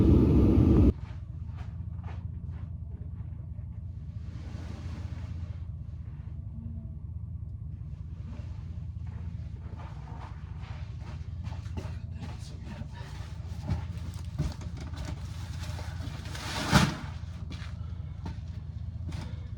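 A grain truck backs up to a barn with a low, steady engine rumble heard from inside the cab. Faint creaks and knocks come through, and one sharper bump sounds near the end.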